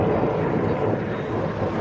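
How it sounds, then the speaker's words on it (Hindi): A modern Pakistan Army helicopter passing overhead gives a steady, loud broadband rotor and engine roar with a wind-blown rumble, continuous and unchanging throughout. "वो बहुत जदीद हेलीकॉप्टर है"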